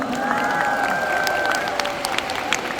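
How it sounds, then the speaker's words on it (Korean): Audience applause at a live show, a crowd clapping steadily under a sustained musical tone, with scattered sharper claps standing out near the end. "박수 한 번 부탁드리겠습니다"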